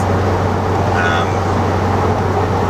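Low, steady exhaust drone inside the cabin of a VW Golf GTI Clubsport with its resonator deleted, a constant deep hum under road noise while cruising, with no talking.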